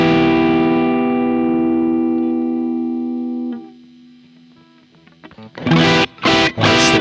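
An electric guitar through a Strymon Fairfax overdrive pedal: a chord rings and slowly decays, followed by a few muted plucks and then several loud, crunchy strummed chords.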